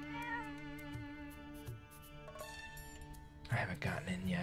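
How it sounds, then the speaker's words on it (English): A cat in the video game Zelda: Echoes of Wisdom meows faintly amid game music and effects, with a quiet voice talking alongside. "A cat."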